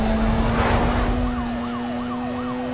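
Police car siren in the video game Need for Speed Most Wanted (2005), a steady wailing tone that rises and falls over a continuous engine hum, with no talking.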